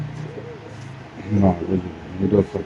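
Soft cooing from a Moyna pigeon, a few low throaty coos rising and falling over a murmur of background noise at a pigeon market.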